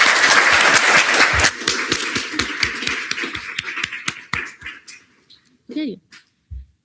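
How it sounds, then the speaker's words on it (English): An audience at a student government senate meeting applauds loudly, the clapping thinning out into scattered claps, followed by a brief murmur. "Before we clap"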